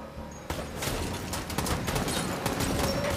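Rapid gunfire from a scene in the TV series Daredevil, season 2, a dense fusillade of shots bursting in at half a second and continuing loud and sustained to the end, with no talk over it.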